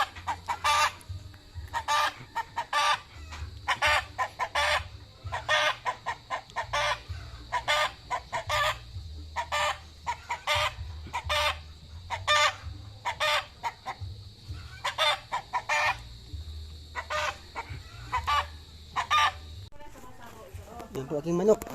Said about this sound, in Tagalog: Yan po aking manok.